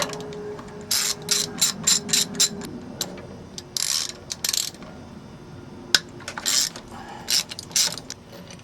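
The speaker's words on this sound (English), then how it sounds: "I'm going to take the thermostat out." Metallic clinks and scraping ratchet-like clicks come in short irregular bursts as a thermostat is removed from a marine engine with a cracked block. The sounds are close and intermittent, with one sharp knock partway through.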